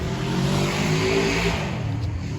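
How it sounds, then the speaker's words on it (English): A motorcycle engine drones close by in a backyard vegetable garden with grapevines, garlic and fennel, a steady loud revving roar that holds through the whole moment, with no talking. "Pardon the motorcycle there."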